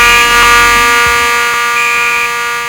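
Fire alarm sounding on a demo board, a loud continuous electronic tone with steady buzzing harmonics filling the whole stretch, no voices.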